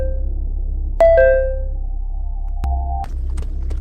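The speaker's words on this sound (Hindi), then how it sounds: "घंटी बजने की आवाज" Bell in a Hindi cartoon story set in a royal court, two ringing tones about a second apart, each with a bright ringing tail, over a steady low hum.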